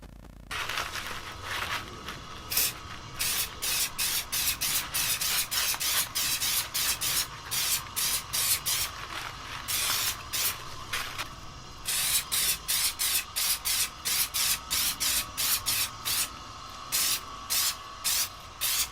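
Protector spray applied to Gucci kitten heel shoes in a long series of short, close hissing bursts, some rapid and some spaced, with brief gaps between squirts.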